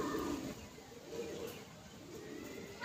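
Tournament pigeons in flight, with soft cooing from a nearby bird and faint fluttering over quiet outdoor ambience, low and distant overall.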